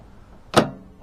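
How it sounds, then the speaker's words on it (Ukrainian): A microwave oven's door latch hook pressed by hand during a repair gives one short, sharp mechanical click near the middle, close and fairly loud against a quiet background. "тут нажимаю на нього крючочок дверки"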